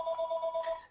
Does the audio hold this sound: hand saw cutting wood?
no